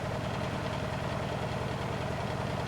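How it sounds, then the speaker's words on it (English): Blomberg WNF9448 washing machine spinning a load of blankets at around 600 RPM, badly unbalanced, gives a steady, continuous mechanical hum and rumble that stays level throughout with no talk. "This machine is probably doing 600, that's probably doing 600 RPM."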